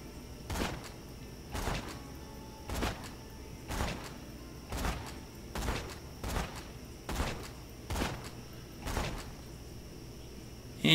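A Jakobs sniper rifle in Borderlands 2 empties a whole magazine: about nine sharp, fairly muted shots land at a steady pace roughly a second apart, each with a short thump.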